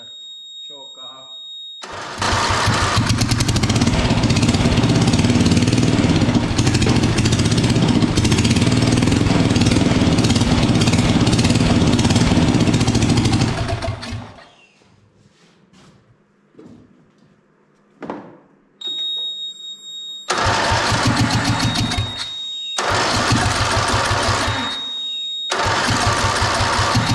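An MTD drag racing lawn mower engine roars loudly and close for several seconds, cuts out to quiet clicks and handling noises, then fires again in short loud bursts.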